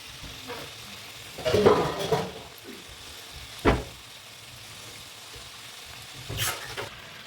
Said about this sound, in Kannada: ಫ್ಲೇಮ್ ಸ್ವಲ್ಪ ಮೀಡಿಯಮ್ ಆಗಿ ಇಟ್ಬಿಟ್ಟು ಗೋಲ್ಡನ್ ಬ್ರೌನ್ ಬರೋವರೆಗೂ ಡೀಪ್ ಫ್ರೈ ಮಾಡ್ಕೊಳ್ಳಿ